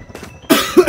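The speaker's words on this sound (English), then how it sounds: "Don't worry, I'm just a coughing." A single short, sharp cough bursts out close and loud, preceded by faint breathy noise, with a second smaller cough-like push at the end.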